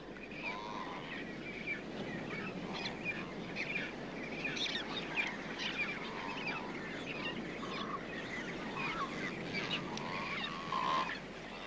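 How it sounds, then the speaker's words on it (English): A king shag colony in the Falkland Islands calls with many overlapping honking and croaking bird voices, some near and others farther off, in a steady busy chorus with no talking. "In the king shag colony, early chicks are hatching."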